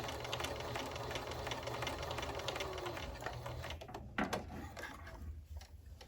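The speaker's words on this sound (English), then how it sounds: "Stitch along the edge using a 1/4 inch seam allowance." Sewing machine stitching a quarter-inch patchwork seam on a crazy patchwork heart pillow, a rapid steady mechanical chatter up close that slows and stops near the end.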